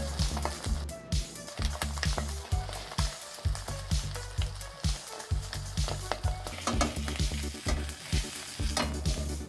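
An egg, ham and cheese sandwich fries in a pan while it browns. A constant sizzle runs under repeated thumping, rhythmic knocks that come about every half second through the whole stretch, with no talking.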